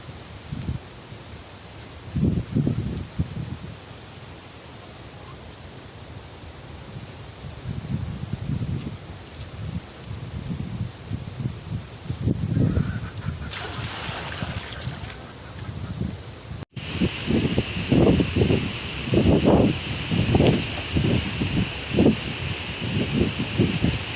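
Strong wind buffets the microphone outdoors near the shore, a rumbling low roar in repeated gusts that grows heavier toward the end.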